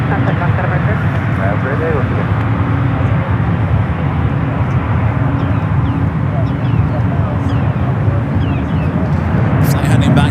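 A China Eastern airliner departs San Francisco airport with a loud, steady engine roar that fills the whole stretch, while a voice talks faintly beneath.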